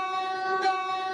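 A video game passenger train's steady tonal horn or whistle with a brief swell in the middle, close and clear, with no voices.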